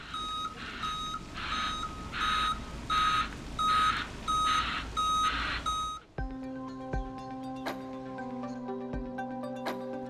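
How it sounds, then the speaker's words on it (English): A truck backing out of a driveway gives a steady run of loud, evenly spaced reversing beeps under a constant engine rumble, then the beeping stops and music-like tones take over. "we're not the ones who have to back the truck out the driveway"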